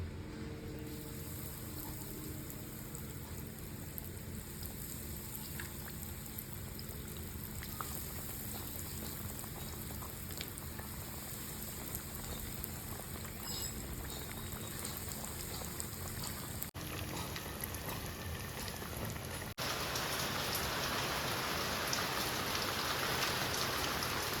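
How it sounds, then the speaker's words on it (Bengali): Coated prawn cutlets fry in oil with a dense, even bubbling sizzle that holds steady throughout and grows a little louder near the end. "আমার কোটিং করা হয়ে গেছে, এরপর আমি তেলে ভেজে নেব"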